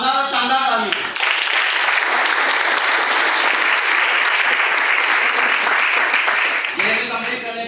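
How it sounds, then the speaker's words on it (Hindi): At a business plan presentation, an audience bursts into loud, sustained applause that lasts about six seconds, with someone speaking briefly just before it starts and again as it fades. "शानदार और शानदार तालियां।"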